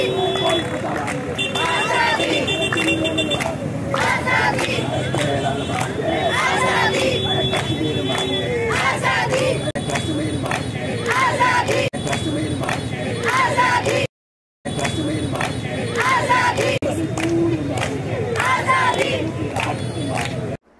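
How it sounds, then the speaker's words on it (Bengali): Protest march crowd in Kolkata chanting anti-India 'Kashmir mange azadi' slogans, a dense continuous roar of massed voices with rhythmic shouting, steady and loud throughout, briefly cut out near the end. "ভারত বিরোধী স্লোগান দিচ্ছে, কাশ্মীর মাঙ্গে আজাদি"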